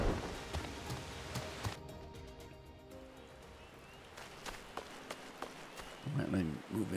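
Rain falling in the video game Final Fantasy XIV Heavensward, a soft steady hiss of patter with scattered sharper drops and ticks, fairly quiet and continuous, with a louder burst of game noise near the end.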